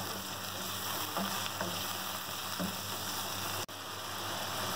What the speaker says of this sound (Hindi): अब हम इसमें अदरक लहसुन पेस्ट डाल देंगे, मिक्स करेंगे और इसको भी हम 3-4 मिनट तक भूनेंगे।